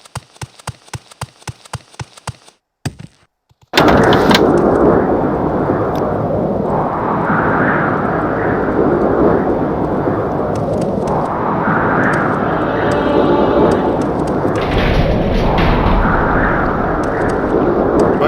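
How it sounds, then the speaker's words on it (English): Ash storm wind in the Morrowind Tribunal video game, a loud, steady roaring gust that starts abruptly after a few seconds of rhythmic clatter and continues unbroken to the end. "It might be hard to hear me over this stupid ash storm"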